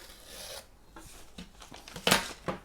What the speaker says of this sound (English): I need to tear about an inch off the bottom.